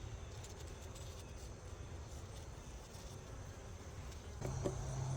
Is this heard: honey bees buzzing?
yes